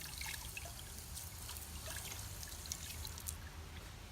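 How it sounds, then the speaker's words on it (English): Water running down the center tube of a Pure Elements water filter for a final rinse, a faint, steady trickle and splash that continues throughout with no one talking. "run water down the center tube for a final rinse"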